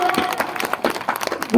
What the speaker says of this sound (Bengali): পুরো উত্তর বাঁকুড়া যাদব সভার জন্য একটা জোরে হাততালি।